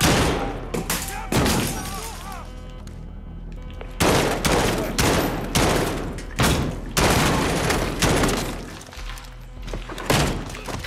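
Rapid bursts of automatic gunfire and heavy impacts fill a Modern Warfare firefight, loud and close, with repeated volleys and brief gaps between them.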